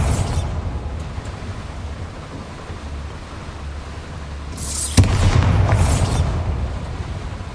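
In Hogwarts Legacy, a Bombarda blasting spell sets off a sudden boom that swells into a rushing, rumbling burst, followed by a second surge, heard over a steady low background roar.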